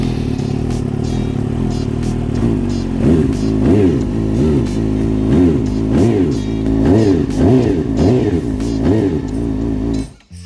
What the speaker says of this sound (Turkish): Ha, önce bir motoru bir çalıştıralım bakalım.